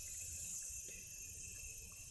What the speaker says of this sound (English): It's hard to concentrate when you have cicadas and there's June bugs and crickets